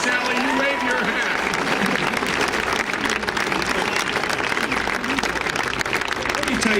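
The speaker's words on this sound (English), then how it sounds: "Give her a round of applause" A large rally crowd at Miami University applauds steadily for a vice-presidential candidate's wife, dense clapping and cheering filling the space continuously with voices mixed in throughout.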